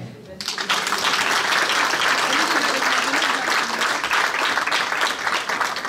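Loud, sustained applause erupts at a charity gala in Brussels after a brief moment and continues evenly, with voices faintly mixed into the clapping crowd.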